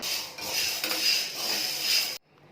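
Pigeon peas dry-roasting in a pan on a village stove, a close, steady gritty rattle and scrape of hard legumes against metal that stops abruptly near the end, leaving quiet.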